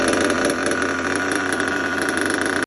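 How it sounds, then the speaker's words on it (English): A small nitro RC buggy engine idles loud and close, a steady high buzzing drone that holds evenly throughout and cuts off abruptly at the end. "That way it actually gets a good amount of fuel into the crankcase of the engine, and it will fire right up first time"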